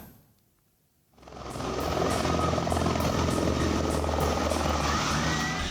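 A helicopter roars in after a brief quiet, its rotor thumping loud and steady as it hovers close overhead while landing on a field in Cijulang, Pangandaran, West Java.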